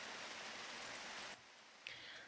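Steady rain falls in a video game, a soft hiss of dense droplets that drops off abruptly partway through, leaving a quieter patter with a brief click.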